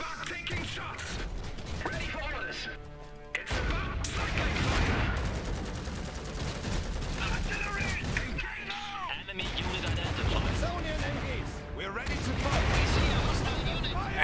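Machine gun fire in the strategy game Iron Harvest, with loud rattling volleys, explosions and crashes of battle filling the scene almost without break while voices speak over the fighting.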